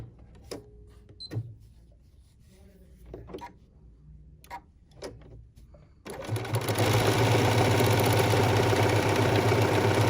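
After a few scattered taps and clicks, a sewing machine with an open toe walking foot starts a satin stitch on batting with no stabilizer, a loud, steady, fast whirring hum running close to the end.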